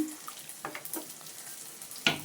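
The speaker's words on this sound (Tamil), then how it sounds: "ரைஸ் நல்லா மிக்ஸ் பண்ணி விட்டுருங்க." Rice is stirred through a pot of coconut-milk chicken biryani in short, soft scrapes and a gentle bubbling sizzle, ending with a louder clank of the spoon.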